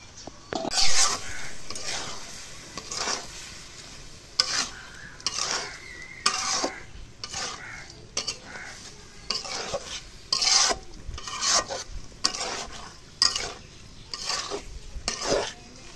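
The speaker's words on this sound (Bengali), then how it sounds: "এখন চাউলটা একটু কষানি করে নিই" Rice and spices for khichuri stirred and fried in a pan, with steady repeated scraping strokes over a soft continuous sizzle, close and fairly loud, no talking.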